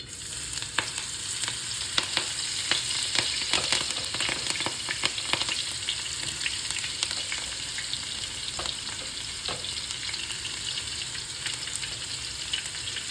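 Curry leaves and spring onion frying in hot oil after popping mustard seeds, for a mixed seafood curry, a loud steady crackling sizzle with dense sputtering pops and occasional stirring throughout.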